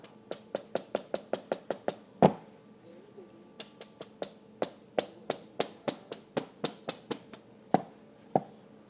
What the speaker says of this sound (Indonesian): Sambil diketok-ketok ya.